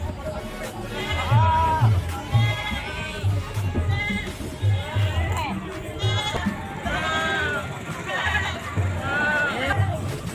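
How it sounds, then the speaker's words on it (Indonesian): Etawa goats at a goat market in Situbondo bleat repeatedly in wavering, overlapping calls, some close and loud, over a steady crowd murmur and people talking. "Ini kondisi kambingnya ini guys."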